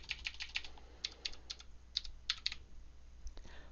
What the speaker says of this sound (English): type its ref code in the Structure Navigator box